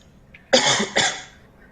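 Two sharp coughs in quick succession, close and fairly loud, with quiet around them.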